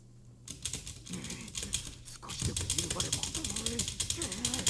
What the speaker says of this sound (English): Sorry for the annoying keyboard sounds.